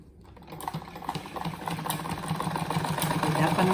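Sewing machine stitching a seam on a patchwork apron, a steady mechanical whir that builds gradually louder over a few seconds, with no voice.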